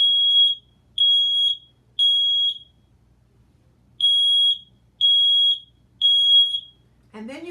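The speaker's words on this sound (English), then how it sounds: "you push that to test the alarm" A smoke alarm, set off with its test button, sounds in sharp, piercing high beeps, three in a row, a pause, then three more, followed by a short click.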